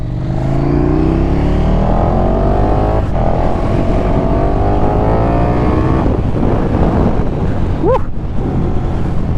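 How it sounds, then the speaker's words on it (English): A motorcycle engine roars loudly and continuously, its pitch climbing through revs, with wind buffeting the microphone throughout. "Sounds so amazing, this bike."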